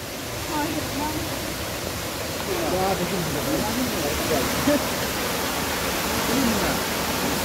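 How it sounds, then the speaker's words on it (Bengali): Krang Shuri waterfall in Meghalaya roars steadily as a broad, even rush of falling water heard up close, with a person talking over it. "আর এই হচ্ছে সেই ক্রাংশুরি ফলস।"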